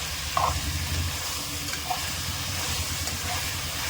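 Tomatoes sautéing in a pan for vegetable rice: a steady, close hiss and sizzle runs throughout, with a few soft stirring clinks and scrapes.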